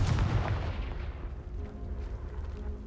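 A fire-spell blast in Hogwarts Legacy erupts as a deep, booming burst at the start, then rolls off into a rumbling low tail that fades over a few seconds.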